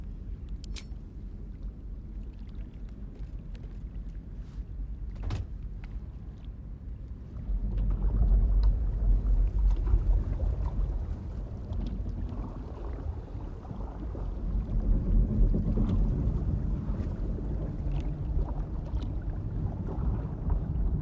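A boat moves over water with a low, rumbling wash and wind noise, swelling louder midway, with faint creaks and knocks scattered throughout.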